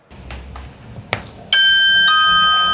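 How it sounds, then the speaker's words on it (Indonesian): A wireless smart doorbell rings with a sustained electronic chime that starts abruptly and holds steady, loud and close, after a few faint knocks and handling noises. "kamu juga bisa rekam pesan yang akan diputar otomatis ketika ada seseorang yang menekan bel."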